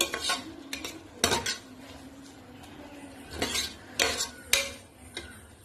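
Onions cooking in a pan are stirred with a metal spoon, giving repeated sharp clinks and scrapes against the pan over a faint background sizzle.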